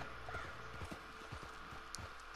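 Horse hooves clip-clop at a steady gallop through Red Dead Online, a rhythmic series of close, moderately loud thuds over a constant game background.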